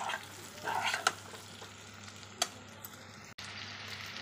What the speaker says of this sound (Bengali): এখন দিচ্ছি এই যে ভাজা মুড়ো আর পটলটা দিয়ে একটু নেড়ে জল দিয়ে দেবো।